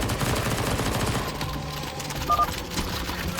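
Gunfire in Counter-Strike: Global Offensive zombie escape mode: rapid bursts of automatic fire crackle continuously for a few seconds at moderate loudness with no voices over them.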